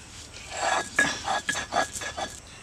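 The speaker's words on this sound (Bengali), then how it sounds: "এবার বেটে নিব সরষা" Mustard seeds ground into paste, heard as a series of close, uneven scraping and knocking strokes of moderate loudness, with roughly six gritty grinding bursts and no voices.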